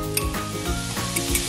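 Flour is stirred into melted butter in a pan for a white sauce, giving a close, steady sizzle with soft scraping stir strokes throughout.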